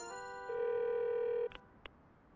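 A cartoon telephone rings inside a children's animated bus series: one steady electronic ring tone lasting about a second, followed by two short clicks or beeps, fairly quiet with no voices.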